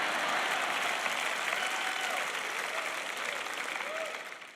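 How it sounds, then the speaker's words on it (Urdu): An audience claps steadily at a church sermon, a dense, continuous wash of applause that holds for about four seconds before tapering off near the end. "تالیاں بجائیں، تالیاں اگر بجانا چاہتے ہیں"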